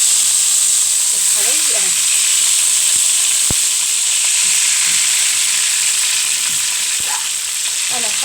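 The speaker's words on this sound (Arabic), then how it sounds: "انا هحمر اللحمه الاول واديها تشويحتين كده" Pieces of meat brown in a hot pot on a gas stove, giving a steady, loud sizzle and hiss throughout while someone speaks over it and a spoon clinks once or twice.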